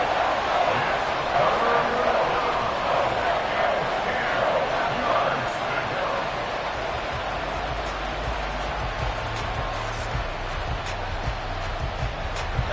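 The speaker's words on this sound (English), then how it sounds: "Crowd getting in it a bit already." Steady stadium crowd roar in an American football video game, a Seahawks versus Green Bay season opener, a broad continuous wash of noise that swells a little toward the end.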